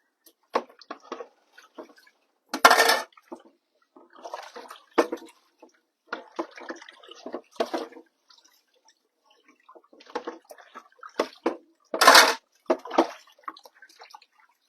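Water from a tap runs in several separate bursts, switching on and off with quiet gaps between, close by and moderately loud in a quiet room.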